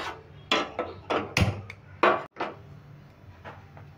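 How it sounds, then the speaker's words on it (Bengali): A metal wok is set down on a gas stove, giving several close knocks and clunks of varied loudness and a sharp bump, followed by quieter handling. Nobody talks. "এবার আমি কড়াইটা বসিয়ে দিচ্ছি, গ্যাসটা ধরিয়ে দিয়ে।"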